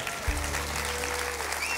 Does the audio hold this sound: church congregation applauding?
yes